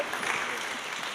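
Conference audience clapping as a speaker is welcomed on stage, a short burst of dense, even applause from the crowd.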